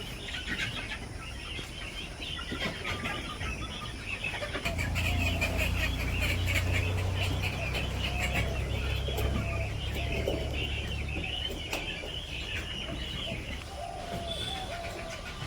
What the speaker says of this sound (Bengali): মোরগে ডাকতেছে